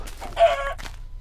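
Chickens in the video game Minecraft give a short burst of clucking, quiet and alone, lasting about a second.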